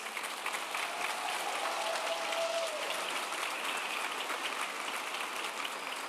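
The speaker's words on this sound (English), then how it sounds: "let's give these students a round of applause" Steady round of applause from the audience at a high school graduation ceremony, a dense, even patter of many hands clapping throughout, fairly distant and moderately quiet, with no talk over it.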